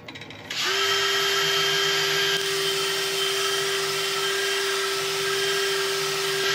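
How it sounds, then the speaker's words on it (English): A lathe or power tool starts up and runs at a steady high whine while turned yew and resin is sanded with an 800 grit abrasive pad. The loud, continuous machine hum stays level throughout with no voices. "I'm going to go over again, over the top of this with an 800 grit abrasive pad."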